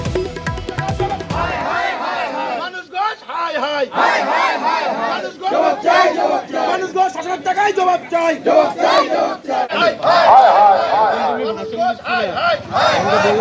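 A crowd of local protesters shouting and chanting together in Raiganj, where tyres were set burning, loud and close, with raised voices overlapping continuously throughout.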